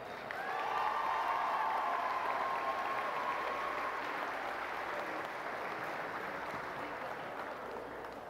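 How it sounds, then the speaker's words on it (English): A sustained wash of crowd applause fills a high school basketball gym, broad and steady throughout, with light cheering mixed into the clapping. "one last round of applause for our"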